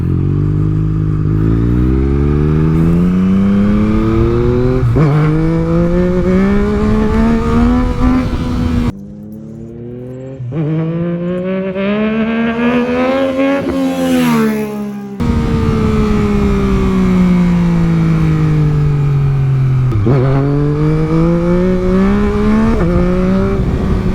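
A 2022 Yamaha MT-09 motorcycle doing wheelies on a street in different power and traction control modes, its engine loud and close, revving up and down in repeated rising and falling sweeps with a brief quieter dip midway.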